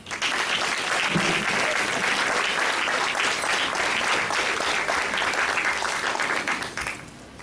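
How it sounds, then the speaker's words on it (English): A dinner-and-dance crowd at an alumni gala gives the committee, board and staff a loud, sustained round of applause, a thick continuous roar of clapping that fades out abruptly near the end. "Please let us give the committee, the JMS board, and staff a big round of applause."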